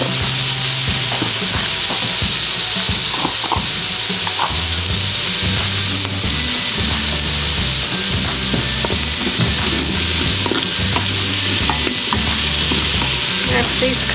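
Large chunks of diced onion and celery sizzle loudly in an Instant Pot, with continuous frying hiss and repeated scraping and clacking from a stirring utensil throughout.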